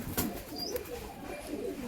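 High flyer tournament pigeons give soft, low coos over about two seconds, close but quiet, with a faint sharp click near the start.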